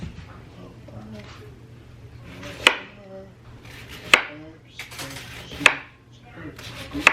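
A knife slices through cabbage across the grain, making sauerkraut: four crisp, sharp chops land at even intervals, close and fairly loud, over a low steady hum, with a voice talking between the cuts.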